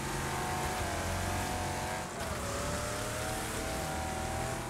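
Race cars roar around a track in the Wreckfest racing game, a steady loud engine drone with a brief dip in the middle before the revving resumes.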